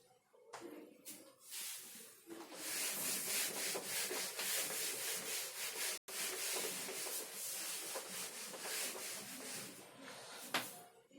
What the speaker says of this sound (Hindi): ऊपर का मैं रब करूंगा.